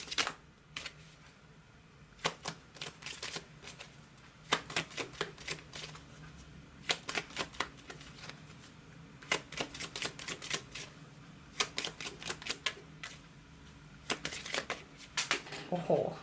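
Tarot cards are shuffled and gathered up close, with quick riffling bursts repeating in irregular clusters throughout.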